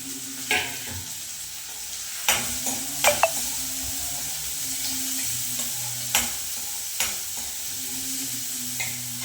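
Onion tempering sizzling in ghee with garlic, a soft steady fry close by, punctuated by occasional spoon taps and stirring clicks.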